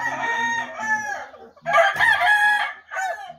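A fighting rooster crows in two loud, drawn-out calls close by, the second bursting in after a brief pause and trailing into a shorter tail.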